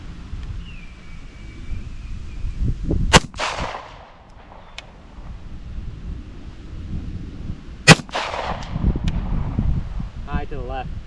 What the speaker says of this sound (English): we're gonna try to hit stuff with our pistols